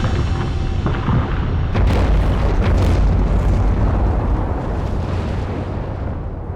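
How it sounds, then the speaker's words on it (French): The Tavurvur volcano rumbles with deep, continuous explosive roaring, a few sharper bursts breaking through the dense low thunder. "Ces explosions envoient continuellement des nuages de cendres sur les habitants d'une ville devenue grise."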